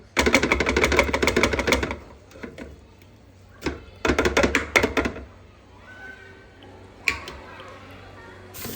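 A kitchen food processor runs in short bursts while blending homemade cream cheese with salt and whey. The loud, close whirring pulses are separated by quiet gaps and a few sharp clicks.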